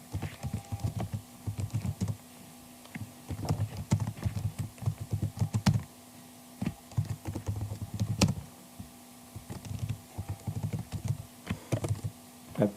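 Typing on a computer keyboard while a form is filled in, heard as steady runs of close, quick key clicks in uneven bursts, with short pauses between, over a faint electrical hum.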